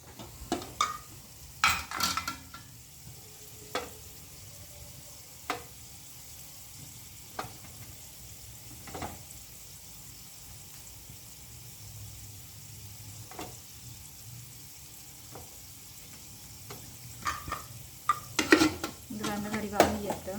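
Potatoes sizzle faintly in a frying pan as a utensil stirs them, giving scattered scraping clicks and taps, with busier clusters at the start and end.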